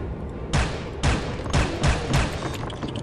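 Gunfire in the shooter game Soldier of Fortune: five loud, close shots in an uneven rhythm roughly half a second apart, each a sharp broadband crack with a short decaying tail, with no talking.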